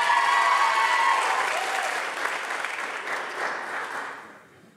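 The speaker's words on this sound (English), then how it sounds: "Please give these amazing nominees a round of applause" An arts awards audience applauds its nominees, a full, loud wash of many hands that holds steady, then thins and fades away near the end.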